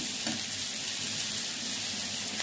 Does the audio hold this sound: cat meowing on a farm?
no